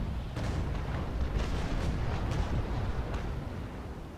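Ship cannons fire in the naval combat game Naval Action, a dense run of booming shots rolling one after another for several seconds at steady loudness, with no talk over them.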